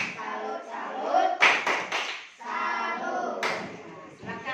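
A group at a school coaching session in Indonesia claps in a patterned salute, bursts of sharp hand claps breaking up spoken voices that carry through most of the stretch.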